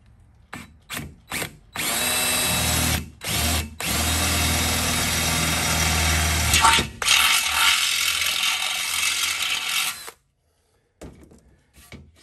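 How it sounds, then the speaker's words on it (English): A power drill runs in a few short blips, then drills continuously for several seconds, loud and close, before stopping and falling quiet. "So we're just going to drill a hole here somewhere."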